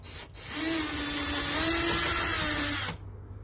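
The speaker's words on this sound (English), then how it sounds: "Now I'm going to use my drill to show you how easy it is when you have the right tool." A power drill with a 10 mm socket loosens a car battery terminal, its motor whirring steadily and loudly at close range for about two and a half seconds before cutting off abruptly.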